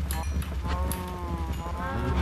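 Herd of cows mooing in Minecraft, several overlapping game moos and bleat-like calls that play continuously and loudly over a low background rumble.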